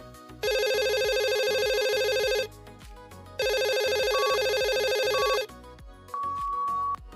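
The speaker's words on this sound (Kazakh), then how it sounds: "Телефонның шырылы." A telephone bell rings in two long trilling bursts separated by a pause, loud and close, with light background music.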